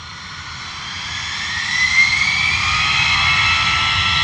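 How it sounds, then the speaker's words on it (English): EasyJet airliner jet engines spooling up at Luton Airport in wet, windy weather, a steady broad roar that swells over a few seconds with a rising whine, fairly close and alone. "Power him up, EasyJet, power him up."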